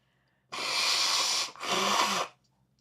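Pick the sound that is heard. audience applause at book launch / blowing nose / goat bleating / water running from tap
blowing nose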